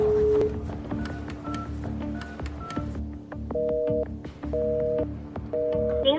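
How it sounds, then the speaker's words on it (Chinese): A telephone number dialed on a keypad: a quick run of distinct electronic tone beeps, each short and clear, followed by a second series of longer, evenly spaced tones. "我们要不要打这个电话试试？"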